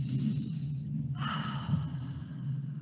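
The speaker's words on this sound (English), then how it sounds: "I take deep breaths." A deep, slow breath drawn in and let out, close and fairly loud against a low steady hum, with a breathy hiss rising partway through and no words spoken.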